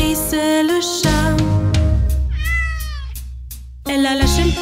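A cat meowing in a French children's song, with clear sung meows in a rising and falling pattern over a bright musical backing.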